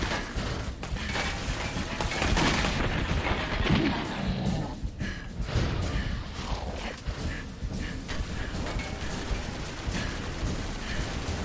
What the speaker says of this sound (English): They're shooting at something, but I don't see it.